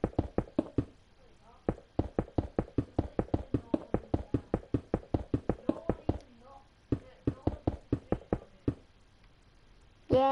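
Someone knocks on a door in a game, a long series of sharp, close knocks in quick irregular bursts with short pauses between runs, plainly audible and alone.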